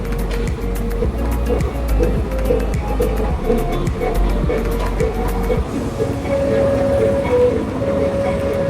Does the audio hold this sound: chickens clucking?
no